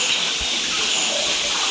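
Water pours steadily from the Gaumukhi Ganga cow-mouth spout at the Shri Tapkeshwar Mahadev temple on Osam hill near Patanvav, Gujarat, a continuous close rushing splash with no talk.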